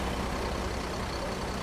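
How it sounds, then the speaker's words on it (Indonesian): Expedition trucks roll off a ferry at Merak port with a steady, heavy low engine rumble that fills the short stretch, with no talk. "ini truk-truk ekspedisi udah pada mulai keluar"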